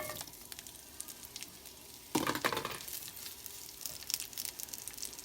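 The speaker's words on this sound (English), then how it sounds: "So on this skillet, I'm gonna go ahead and add my onions." Leftover onions hit a hot oiled skillet with a sudden loud sizzle that starts partway in, then settles into a steady crackling fry with occasional clinks, no talking.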